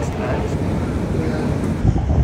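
Wind gusts in the open air in Vienna, a steady loud rumble buffeting the microphone that swells slightly at the end, with no talking over it.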